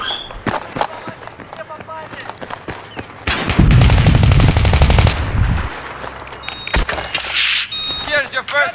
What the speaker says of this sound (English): I was trying to shoot him again.